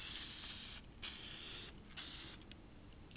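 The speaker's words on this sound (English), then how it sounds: "I'm now going to spray them." A continuous hiss of clear enamel aerosol spray, steady with a few brief pauses and bursts, close and fairly quiet.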